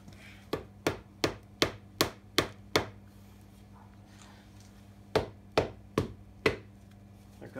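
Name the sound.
mallet hammering to separate engine parts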